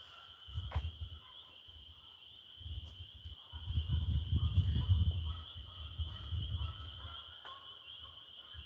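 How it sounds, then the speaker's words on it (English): Frogs croak at night in a steady chorus, with a continuous high insect-like trill running throughout and low rumbling croaks swelling and fading in pulses. "All those frogs."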